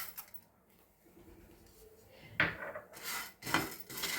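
Urad dal and chana dal roasting in a pan while making vangi bath powder, with quiet stirring and a few sharp scraping clatters of a metal spoon against the pan in the second half.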